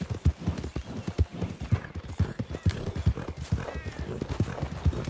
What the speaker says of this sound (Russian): Мужик на осле едет.